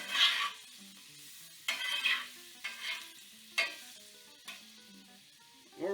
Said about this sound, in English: I'm going to cook these in a combination of fats. I'm going to use some butter and some vegetable oil.